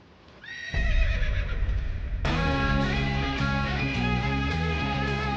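A horse in a dramatic film scene lets out a loud, close whinny with shaky, rising and falling pitch that carries on for several seconds over a low background, with no talking.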